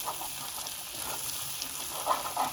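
Hot caramel with cold butter stirred in a pan, a steady soft sizzle with faint scraping strokes and a couple of brighter clicks near the end, no voices.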